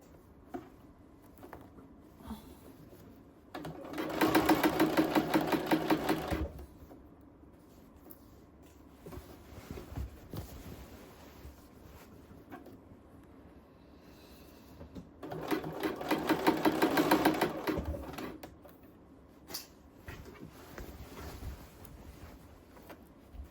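A sewing machine stitching a set-in sleeve into a blazer runs in two close bursts of rapid, even whirring a few seconds each, with quiet handling of fabric between them and no speech.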